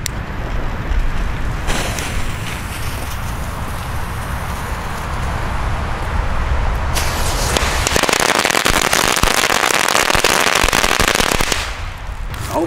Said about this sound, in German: Jetzt haben wir hier noch eine schöne Knallkette Katan Summerstream 500.